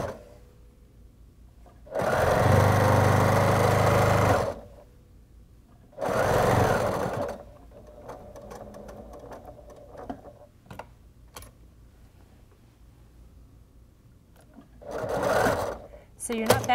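A sewing machine stitches quilt binding in three loud bursts of steady whirring: a long run near the start, a shorter one mid-clip, and a brief one near the end. Quiet pauses separate them, with faint handling noises in between.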